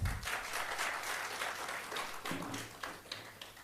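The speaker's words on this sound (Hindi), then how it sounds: "तालियां बजा दो इनके लिए" An audience applauds at a motivational talk, a steady wash of many hands clapping close by for several seconds, tapering slightly toward the end.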